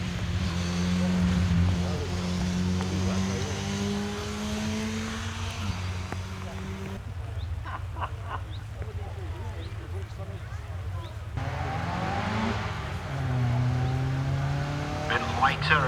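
Radical Pro Sport race car powering up a wet, low-grip hillclimb course, its engine droning steadily with shifting pitch and gear changes, moderately close, with a brief quieter stretch in the middle and some faint background chatter.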